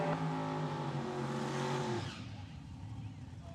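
Drag racing cars roar through a small tire shootout qualifying run, a loud sustained engine drone with rising harmonics for about two seconds before fading into a rumbling tail as an announcer talks over it.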